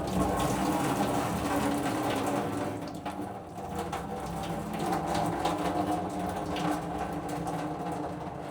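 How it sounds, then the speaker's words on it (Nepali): Boiling water is drained off a pot of cooked Shin Ramen noodles, making a steady, close gushing pour that runs for the whole stretch without speech. "मैले चाहिँ पानी सबै फालिदिन्छु।"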